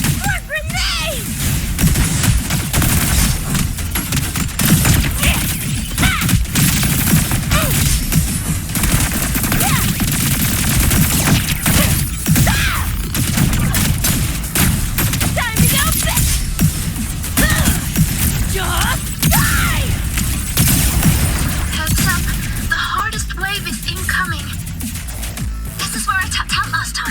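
Grenade blasts and rapid gunfire in the game Wuthering Waves, a dense, loud, continuous barrage of bursts and crashes with intermittent shouted voices over the combat.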